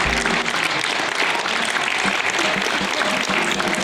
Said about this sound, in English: Mihoci also wanted to record the applause separately,